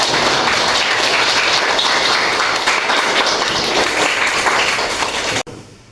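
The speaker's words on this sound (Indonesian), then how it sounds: "tepuk tangan semua." A class of children at an Islamic primary school claps hands together in a loud, dense, continuous burst of applause-like clapping that cuts off sharply at the end.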